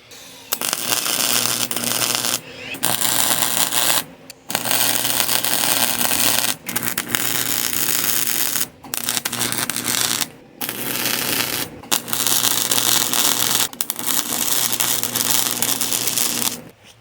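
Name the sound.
MIG welding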